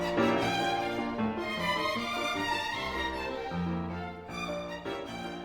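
A violin ensemble plays a full, sustained passage of layered violins in close harmony, rich and continuous with a brief dip before the strings swell again.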